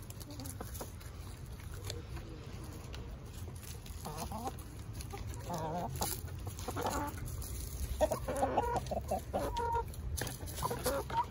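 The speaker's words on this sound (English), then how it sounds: "where the chickens can reach it, and they just peck and peck until it's all gone" Chickens cluck softly nearby while pecking at a hanging treat, with scattered pecking taps and rustling, and a few quiet voices in the background.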